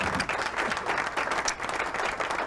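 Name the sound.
applause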